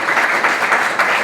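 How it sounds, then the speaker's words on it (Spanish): An audience member claps during a church talk, a brief run of loud, dense hand claps filling the moment without speech. "Está muy bien nuestra delegada de aplausos"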